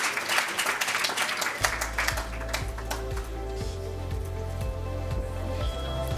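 An awards-ceremony audience claps warmly as performers leave the stage, loud sustained applause over a low repeating musical thump.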